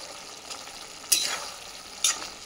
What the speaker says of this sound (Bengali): তো এরপর আমি বেগুনগুলো অ্যাড করে দেবো